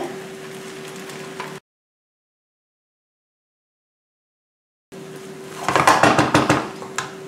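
Fried rice (nasi goreng) gently stirred in a pan, with soft scraping and a quick run of clinking utensil-on-pan taps near the end, after a silent gap.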